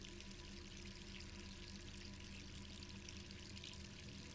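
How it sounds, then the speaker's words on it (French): A water tap left running in the video game Resident Evil 3 Remake, giving a steady, even rush of pouring water that holds at a constant level throughout with no talk. "Par contre, avec le robinet allumé,"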